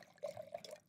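Wine, a Tempranillo, pours into a glass at a tasting of spicy reds, a short, quiet liquid trickle of under a second.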